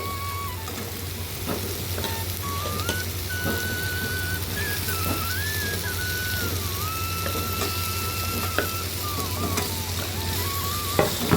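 Cut pumpkin sizzling in frying masala for a Chettinad pumpkin pulicur, a steady dense crackle and hiss of frying with occasional stirring clinks, continuous and fairly close.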